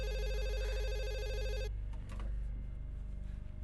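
A telephone rings loudly with a buzzing electronic trill for about a second and a half, then cuts off, leaving a low hum and faint rustling.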